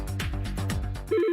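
A business phone system rings with a short electronic trill near the end, loud and close, right after a stretch of voice-like tones.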